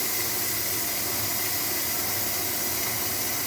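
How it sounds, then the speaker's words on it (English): Steam venting from a quick cooker while spaghetti cooks, a loud, steady, unbroken hiss held close with no voices. "So steam's just going out."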